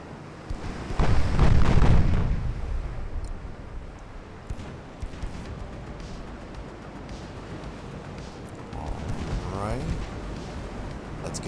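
Naval artillery broadside in the Ultimate Admiral: Dreadnoughts warship game, with a heavy booming blast early on followed by a rumbling tail and scattered lighter reports, while a voice talks over the battle.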